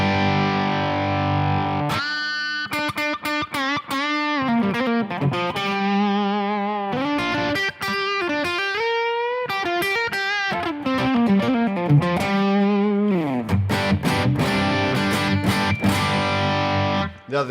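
Kemper amp guitar tone with the pure boost engaged, a distorted electric guitar playing sustained chords and melodic bends with effects processing, loud and continuous throughout.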